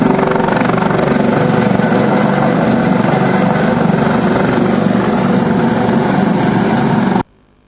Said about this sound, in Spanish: llegó al Aeropuerto Internacional de Melo un helicóptero con las otras segundas dosis de la vacuna Pfizer